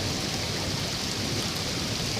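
Heavy rain pours down outdoors in a steady, dense hiss that stays constant and fairly loud throughout, with no voices or other sounds breaking through.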